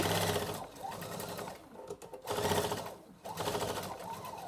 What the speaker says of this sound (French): je vais fermer ma couture de côté